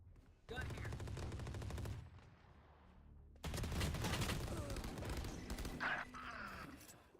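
Valorant gameplay delivers two loud bursts of rapid automatic gunfire, a short volley followed by a pause, then a longer sustained barrage with sharp cracks and a lingering rumble.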